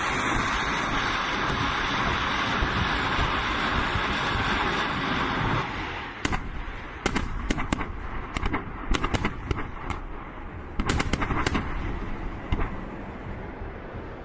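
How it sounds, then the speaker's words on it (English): A 220mm thermobaric rocket munition detonates: a loud, sustained roar for about six seconds, then a string of sharp, crackling bangs and bursts at irregular intervals. "The instantaneous detonation creates a zone of increased pressure, which burns out all the oxygen."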